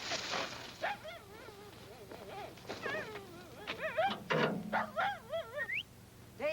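A dog named Daisy in a 1949 film whimpering and yipping in a string of high wavering whines and short barks, fairly close, in a noisy old recording.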